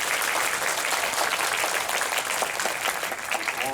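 Dense, steady applause from a cinema audience at a film talk event in a Dolby Cinema hall, sustained clapping from a full crowd that holds at an even level throughout.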